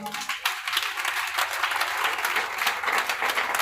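Church congregation at an evening prayer service bursting into sustained applause and cheering acclamation, a dense continuous wash of clapping from a large crowd, with faint voices mixed in.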